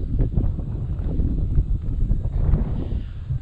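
Strong wind buffeting the microphone in steady gusts at a high peak, a low roaring rush with no voices.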